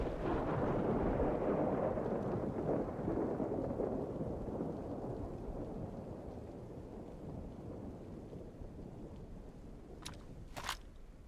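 Heavy outdoor thunderstorm with a long low rumble of thunder rolling and slowly fading over rain noise, ending with a couple of sharp close knocks; no talking.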